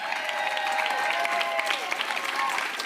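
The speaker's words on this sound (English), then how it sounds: "so everybody give them a round of applause." A crowd at a pickleball open applauds with steady clapping and light cheering, while voices talk through it.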